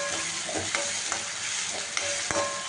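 Vegetable manchurian gravy being stirred in a hot pan: a soft, continuous sizzle with a few sharp spoon scrapes and clicks against the pan, close and short.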